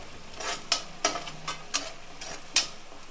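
Food with green chilli and pepper frying in a pan, stirred with a series of quick scraping strokes over a light sizzle, the spoon ticking against the metal in an uneven rhythm.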